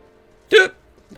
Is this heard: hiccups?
yes